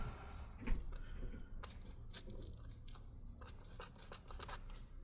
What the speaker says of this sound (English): I need to get some scissors to cut this thing out because I don't want to try to even peel this tape up